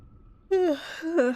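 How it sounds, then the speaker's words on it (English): A drawn-out sleepy yawn rises and falls twice in quick succession, close to the microphone, ending in a soft breathy sigh. "Oh no, I keep yawning."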